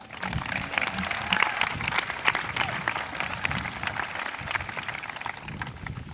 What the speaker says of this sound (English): Please join me in a round of applause for Faye Hanfeld.